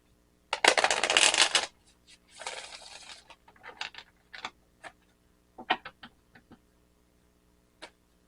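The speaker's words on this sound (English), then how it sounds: "Let me shuffle this again for a second." Cards being shuffled in two riffling bursts, followed by several short taps and flicks of cards being handled, close and fairly quiet with no talking.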